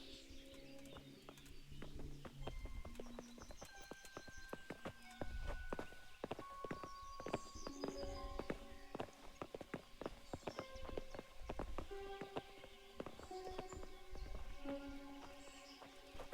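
Horses' hooves clip-clopping in the medieval role-playing game Kingdom Come: Deliverance, a steady run of close hoofbeats under birdsong and ringing tonal music.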